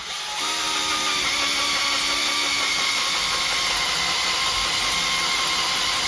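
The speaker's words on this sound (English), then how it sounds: "Again, all the way on just drill." Power drill boring holes into a wall for rawl plugs, a close, steady high whine that starts abruptly and holds at constant pitch throughout.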